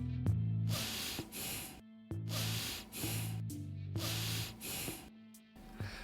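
Quick, shallow stressed breathing, with rapid airy inhales and exhales repeating in short bursts close to the microphone, a person imitating the pattern of anxious breath.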